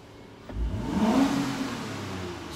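A 2020 Toyota Avalon TRD engine revs up briefly, rising to a throaty peak and then easing back toward idle, close by with no talking.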